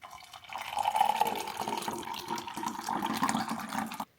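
Water pours steadily into a container for a pineapple and parsley detox drink, a continuous close splashing fill lasting about three and a half seconds before it stops abruptly.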